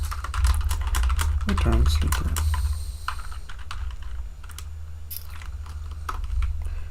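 Quiet computer keyboard typed on in steady bursts of soft clicks, with the spacebar noted as the loudest key, under a low hum and a brief spoken phrase.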